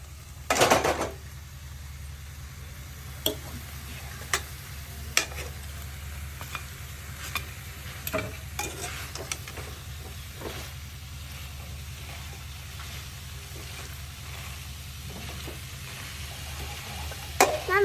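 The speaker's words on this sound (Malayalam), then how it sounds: "ഇനി നമുക്ക് നമ്മൾ നേരത്തെ കഴുകി വെച്ച ചിക്കൻ ഒന്ന് അതിലേക്ക് ഇട്ട് കൊടുക്കാം." Washed chicken drops into a coconut chicken curry pan with a burst of sizzle, then a steady low frying hiss runs on, punctuated by repeated spoon scrapes and clinks against the pan.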